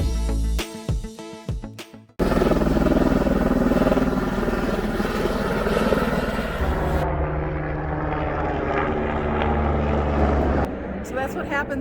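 A Grand Canyon tour helicopter roars loudly overhead near a dispersed campsite outside Williams, Arizona, its steady rotor and engine drone swelling and fading over several seconds after brief speech at the start.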